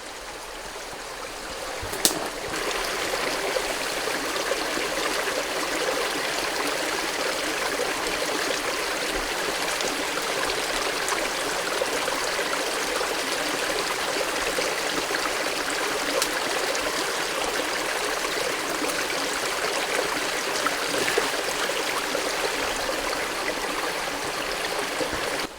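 A mountain stream runs steadily along the Appalachian Trail as a water bag is filled from it, a continuous close rushing trickle holding even for the whole stretch with one brief knock near the start.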